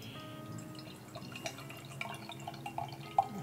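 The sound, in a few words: pouring Brut IPA beer into a tulip glass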